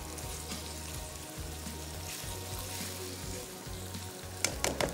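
Minced chicken frying in a pan with garlic-ginger paste and green chili paste, a steady quiet sizzle with a low hum underneath and a few brief clinks near the end.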